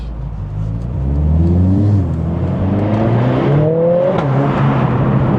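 A Mercedes-AMG A45 S engine with a RaceChip tune revs up through several gears on a road test, its pitch climbing in repeated sweeps as it accelerates close by, loud and continuous.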